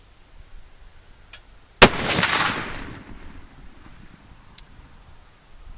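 A single loud rifle shot fired over a MagnetoSpeed Sporter chronograph, a sharp crack followed by a second or so of roaring decay, with faint clicks before and after.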